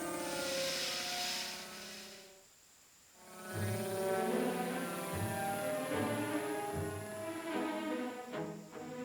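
A new drone takes its first flight in a dinosaur cartoon, giving a steady, droning motor buzz that cuts out briefly and then resumes, fairly loud and close, with scattered clicks near the end.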